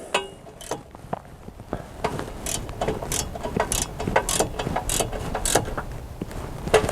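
A ratchet tightening a bolt on the transmission of a 2003 GMC 2500HD truck, a series of sharp rhythmic clicks in quick bursts, close up and alone.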